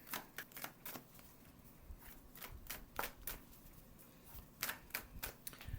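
A tarot card deck being shuffled close up, with quick papery riffles and flicks in uneven clusters, soft and alone in a quiet room.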